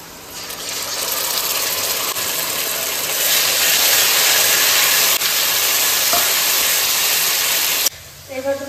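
Spice paste of chilli, cumin, ginger, turmeric and salt added to frying onions in mustard oil, giving a loud, steady, close sizzling hiss that swells and holds before cutting off near the end.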